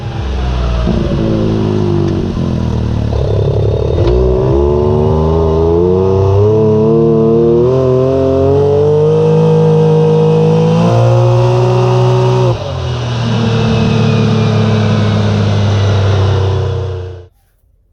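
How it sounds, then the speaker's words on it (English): Can-Am X3 side-by-side engine with a valvetronic exhaust revving loud and close, pitch rising and falling through several sustained pulls, getting louder as the valve opens, then cutting off abruptly at the end. "You'll see when I flip it on, it'll get louder. And then you'll see it actually moving as I accelerate."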